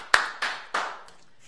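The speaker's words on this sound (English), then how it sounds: "Let's get a round of applause here." Studio audience applause during a live coloring party, three short bursts of clapping about a third of a second apart, each dying away quickly, moderately loud with no talk.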